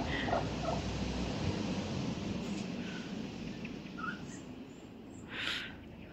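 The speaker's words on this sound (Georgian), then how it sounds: "აგე კრუხი" A broody mother hen with her tiny chicks in a home farmyard, clucking faintly and intermittently beneath steady outdoor background noise.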